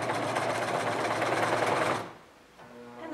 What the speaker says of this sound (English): you want to go backwards over that same stitch